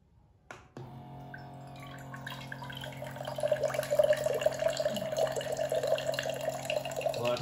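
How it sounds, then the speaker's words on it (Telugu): Water from a mineral-water can dispenser with a one-touch, one-minute auto stop trickles into a glass, starting after a click and building to a steady, thin stream with a rising pitch as the glass fills. "వాటర్ ఫ్లో కూడా వచ్చింది చాలా తక్కువగా వస్తుంది వాటర్ అయితే"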